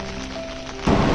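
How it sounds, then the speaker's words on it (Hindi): Steady rain falls on the Madhmaheshwar mountain trek in the Himalayas, a close, even hiss that grows louder near the end, with no voices over it. "भोलेनाथ ने कुछ ही देर में बारिश भी स्टार्ट"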